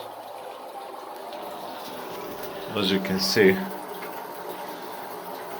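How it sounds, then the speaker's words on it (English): Water runs steadily out of an electric water heater pipe during internal cleaning, a continuous wash of flow with a short louder surge midway, while someone speaks over it. "There is water coming out from the pipe because it's sucking air"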